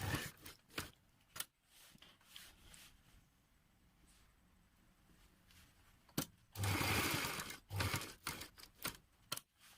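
A sewing machine stitches a kurta placket in short quiet runs, with a louder sustained burst of stitching in the latter half amid soft handling noises.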